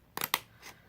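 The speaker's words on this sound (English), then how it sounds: "I love using the scissors." Two quick snips of scissors cutting paper, crisp and close, followed by a softer third rustle.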